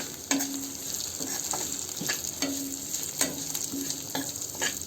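A spiced rice mixture with red chilli powder, turmeric, coriander powder and chilli flakes is stirred in a pan over a low flame for rice vadi, giving repeated spoon scrapes over a steady soft sizzle, close and moderately loud.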